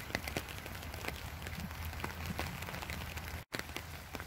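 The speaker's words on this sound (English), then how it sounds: "let's explore the trail and watch the rain coming down" Steady rain patters and hisses all around on a wooded trail, dense and constant, with scattered louder drops close by and no voices.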